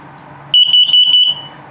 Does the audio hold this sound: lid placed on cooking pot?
no